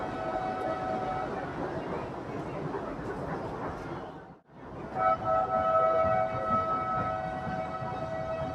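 A funicular train's loud, sustained horn blares steadily at Malanggad, India, briefly drops out, then resumes with a strong tonal wail over rumbling background noise.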